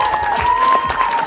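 Event audience at the Border 2 appearance applauding and cheering for director Anurag Singh, a dense, steady wash of clapping and shouts with a tonal whine running through it.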